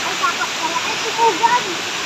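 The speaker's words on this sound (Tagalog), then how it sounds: "Dadaan na po tayong ilog na." Water of a mountain river rushing along, a steady, loud broadband roar that stays even from start to finish, with faint voices talking over it.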